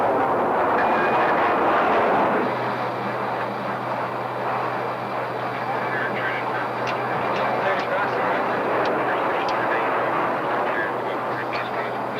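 A Boeing 727 jet airliner in the late 1960s, heard as a loud, steady engine roar with a low hum that settles after a few seconds, plus faint higher whines and scattered clicks throughout.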